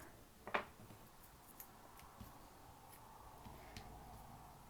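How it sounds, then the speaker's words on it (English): Yarn snipped once with scissors during a knitting bind-off, a single faint, brief cut in a quiet room, followed by soft ambient stillness. "Then you cut your yarn"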